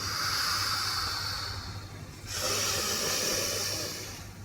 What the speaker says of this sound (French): Inspire et souffle, expire.